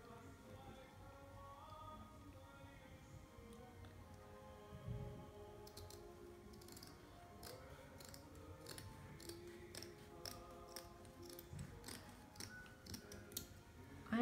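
Scissors snip material to be wrapped around a candle for a Christmas DIY decoration, with a series of quiet, close, irregular cuts and rustles over faint background music.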